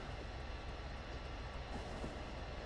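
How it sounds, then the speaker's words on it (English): A train pulling into a station in the game Factorio produces a continuous rumbling rail roll, a steady dense mechanical noise with no pauses over its short span. "There's a train in."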